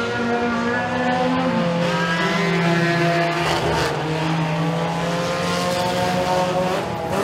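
A pack of race cars in a heat race at Eriez Speedway, engines roaring loudly and continuously with rising and falling pitch as they pass, crowd and track ambience beneath.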